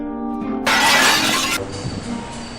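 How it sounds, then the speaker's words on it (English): Shop window glass shattered by a thrown stone: a single loud crash of breaking glass after a brief lead-in, followed by a short tinkling trail of falling shards. "Stopping at a wide glass window shop, Sophie picked up a big stone and threw it through the glass."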